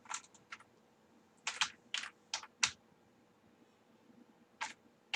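Quiet, close keystrokes of code being typed on a computer keyboard, a few sparse clusters of clicks with gaps of silence between them.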